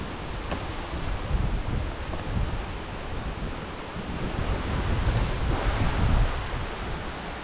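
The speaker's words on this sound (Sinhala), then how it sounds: "මෙතන ලස්සන වතුර පාරක් යනවා" Steady broadband rush of a water stream flowing at Na Ella waterfall in the Knuckles mountain range, with a continuous, even wash of water close by and no voices.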